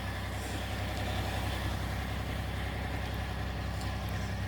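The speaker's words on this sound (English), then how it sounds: "started the tractor" Tractor engine running on an off-grid property, a steady low rumbling drone at constant level throughout.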